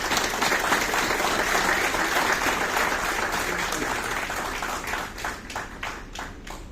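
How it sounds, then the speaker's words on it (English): Audience at a tax and securities law seminar applauding guest speakers, steady dense clapping that holds for several seconds and then gradually thins out as individual claps emerge. "May I therefore request you all to join me in welcoming and applauding our guest speakers, Manoj, Jitin Bhai and so."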